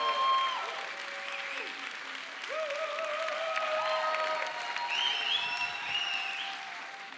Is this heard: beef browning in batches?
no